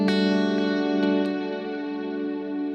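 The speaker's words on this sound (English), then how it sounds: "Really pretty reverb that I use that for ballads" Guitar played through a lush reverb pedal brought in by an expression pedal, a sustained chord ringing out in a wide, washy tail with a few faint plucked notes that slowly fade.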